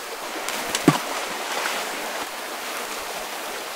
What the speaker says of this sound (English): Here is the sound effect for water splashing against a rock in a running river.